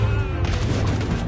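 Cannon fire in the battle game Totally Accurate Battle Simulator, a dense burst of booming blasts and crackling gunfire that fills a short moment with loud, layered battlefield noise.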